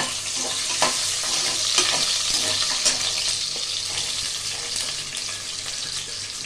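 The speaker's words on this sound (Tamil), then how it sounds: "இப்போ இந்த சின்ன வெங்காயம், பெரிய வெங்காயம், இந்த மிளகாய் இது வரைக்கும் நம்ம போட்டு வதக்கிக்க போகிறோம்" Small shallots, big onions and chillies sauté in a pot for sambar, giving a steady close sizzle with scattered scraping stirs and light clinks throughout, no voices.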